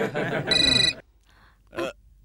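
A short electronic telephone ring sounds for about half a second, close and clear, overlapping a voice, followed by a brief quiet and another short vocal sound.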